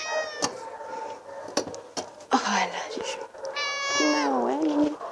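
Small kittens meow repeatedly in an animal shelter infirmary, with several clear, high-pitched, wavering cries close by and a few soft knocks between them, while a person speaks quietly nearby.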